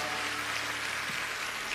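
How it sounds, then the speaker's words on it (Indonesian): Church congregation applauding after a prayer, a steady dense wash of clapping filling the room at moderate level with no speech over it. "berikan tepuk tangan untuk Tuhan"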